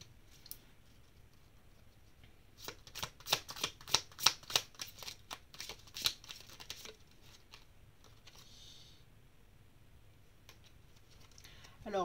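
Oracle cards shuffled by hand, a quiet flurry of crisp riffling flicks for a few seconds amid near silence, followed by a brief faint rustle.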